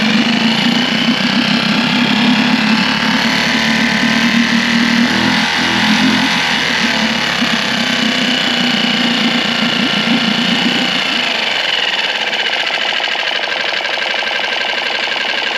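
A Mercury 6 hp four-stroke outboard idles at low throttle in a steady, even drone, its low rumble easing slightly toward the end while the engine keeps running close by with no one talking.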